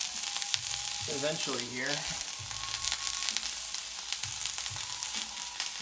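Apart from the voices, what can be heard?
ginger frying in a carbon steel pan for fried rice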